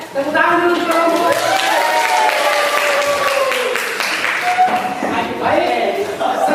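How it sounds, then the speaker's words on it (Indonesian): Students clapping together in a classroom, a steady burst of group applause lasting several seconds, with voices chattering over and through the clapping. "Oke, tepuk tangan dulu kelompok."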